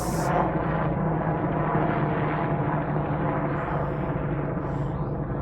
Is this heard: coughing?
no